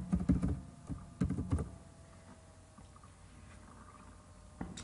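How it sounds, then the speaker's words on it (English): Quick bursts of typing a password on a computer keyboard, a cluster of clicks, a pause, then another short run and a final tap, close and fairly quiet. "Typing my password."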